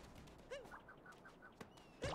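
Bird calling in Super Mario Odyssey, a few short chirps and warbling calls spread over a couple of seconds, faint against a quiet game background.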